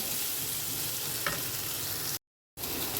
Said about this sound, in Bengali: এটা যখন ভাজা হয়ে আসবে তখন আমি এই শাকটা যোগ করে দেবো